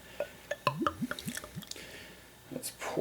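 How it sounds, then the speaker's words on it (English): Baltika 9 beer is poured into a glass, with a series of gulping glugs and splashy drips that rise in pitch as the glass fills, followed by fizzing near the end. "Oh, such a wonderful pour with a decent amount of head"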